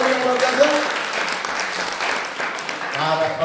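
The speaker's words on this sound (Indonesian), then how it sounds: "Beri tepuk tangan dulu" A congregation at a church retreat session applauds during a sermon, a continuous moderate wash of clapping with a preacher's voice audible over it.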